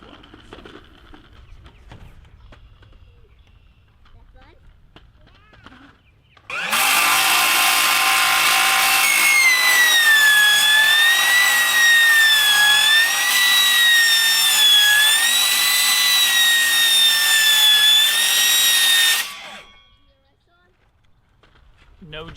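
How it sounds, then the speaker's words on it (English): Power saw with its blade turned around cutting building material, a loud continuous rasping whine with a wavering pitch that runs for about twelve seconds, starting and stopping abruptly between quieter stretches of outdoor background. "But if you turn the blade around, it really seems to prevent some of the jumping, the blade catching and jumping"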